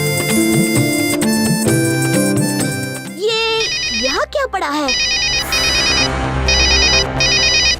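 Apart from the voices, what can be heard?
mobile phone ringing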